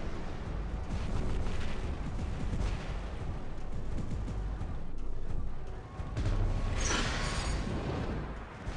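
Robot weapons firing in the War Robots video game, a dense, continuous barrage of booming blasts and rattling gunfire that stays loud and roaring throughout.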